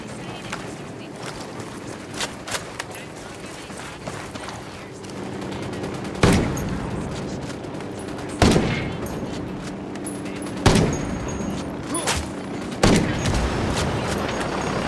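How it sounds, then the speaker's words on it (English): Sniper and automatic gunfire crackle in Ghost Recon Wildlands, a steady run of rifle shots broken by four loud, sharp cracks spaced a couple of seconds apart, near and echoing over a continuous battle din. "We got a sniper, get down!"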